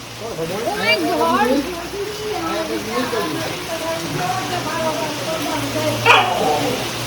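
Heavy monsoon rain pours down steadily at a house in Junagadh where water is coming indoors, a constant wash of noise under voices talking and calling throughout.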